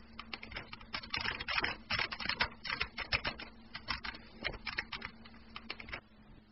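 Quiet, rapid typing on a computer keyboard, a steady stream of soft close key clicks entering a Python command, with no talk.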